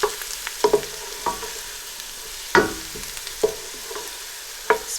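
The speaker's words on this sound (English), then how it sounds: "cardamom pods and the cinnamon stick. So I'm just going to stir those together." Cardamom pods and a cinnamon stick stirred in a frying pan, giving scattered light scraping clicks and rattles over a faint sizzle, close by with no talk.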